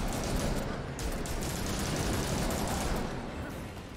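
Gunfire aimed at an enemy in Gotham Knights crackles as a sustained, rapid stream of shots at moderate loudness, forming a dense, noisy barrage that tapers slightly toward the end.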